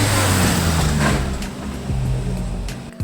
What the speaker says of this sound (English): And then all of a sudden I saw this beautiful car coming along.